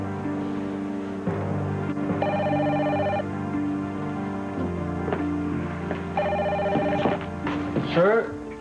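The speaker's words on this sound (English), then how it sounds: "Sir, the phone is ringing." A telephone rings in two short bursts over a steady low hum and background music, ending with a brief rising sweep.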